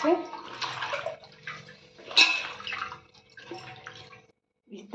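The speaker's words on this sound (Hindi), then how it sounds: "अब सभी पत्ते को अच्छे से पानी में मैं धो लेती हूँ।" Arbi (taro) leaves being washed in a basin of water, with splashing and sloshing that swells and fades over several seconds, a brief louder splash in the middle and a short pause near the end.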